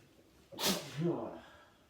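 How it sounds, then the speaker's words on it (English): A single forceful nasal blow, a rushing hiss followed by a lower honking trail, close and brief. "Oh my god, how many times I had to blow my nose?"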